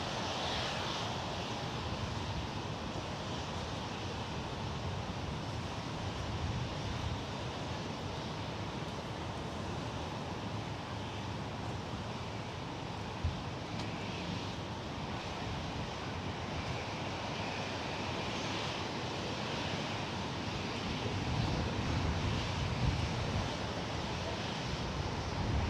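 A Lockheed HC-130J Combat King II turboprop out of Moffett departs San Jose airport with a steady, broad engine roar that holds at a fairly even level throughout, swelling slightly near the end, with wind-like noise mixed in.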